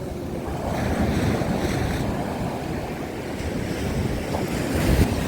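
Sea waves break and wash steadily along the Odesa shore while wind buffets the microphone, a loud, continuous roar of surf with no voices.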